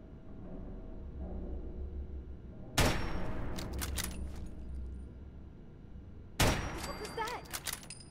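Bursts of gunfire from shooting an enemy in the video game Fallout 4, two sharp volleys with rapid follow-up shots over a low rumbling game background, with a voice talking faintly.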